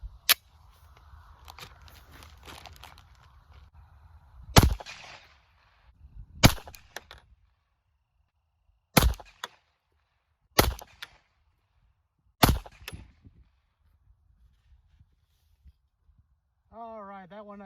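Five sharp, loud 9mm pistol shots firing Gallant bullets over Titegroup powder loads, spaced a couple of seconds apart in a steady string, with low background rumble before and a person speaking at the end.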